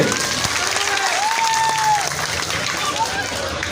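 A crowd applauds at a neighbourhood club's 63rd anniversary honouring ceremony and cultural programme. The clapping is dense and continuous, with a faint voice over it.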